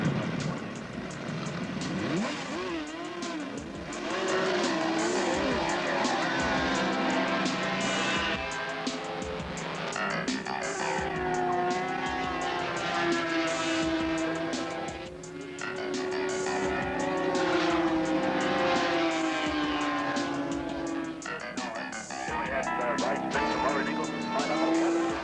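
Sidecar motorcycles racing at Bathurst in 1981, with engines whining and droning steadily, rising and falling as the outfits pass, beneath continuous narration by a commentator.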